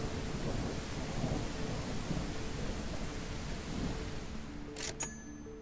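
Steady heavy rain with a low rolling rumble of thunder in Rise of Gun, a dense unbroken wash close around, ending with a couple of sharp brief clicks.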